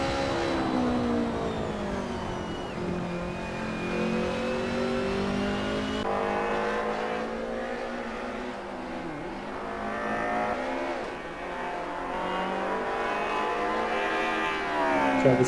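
Race cars, including a BMW, circling Vallelunga in Assetto Corsa: loud, continuous engine drone from several cars at once, rising and falling in pitch through gear changes and corners.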